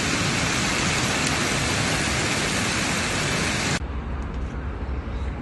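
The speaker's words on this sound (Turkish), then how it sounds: "dışarıda çok şiddetli rüzgarla birlikte dolu, dolu yağıyor." Dense, roaring hail and strong wind hammering steadily, loud and close, then abruptly dropping to a softer, duller rush near the end.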